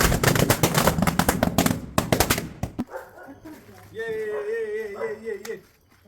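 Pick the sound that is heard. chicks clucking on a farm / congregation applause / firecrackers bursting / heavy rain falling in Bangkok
firecrackers bursting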